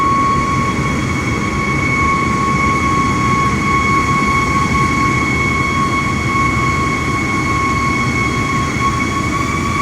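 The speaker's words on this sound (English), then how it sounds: "This little aircraft makes some noise, doesn't it?" ERJ 170 jet engines in Microsoft Flight Simulator 2024, a steady loud roar with a high whine running continuously throughout.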